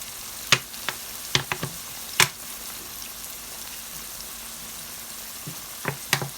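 Chicken gizzards sizzle in a pan as oil goes in, a soft steady frying hiss broken by several sharp crackles and pops, close and alone with no voice.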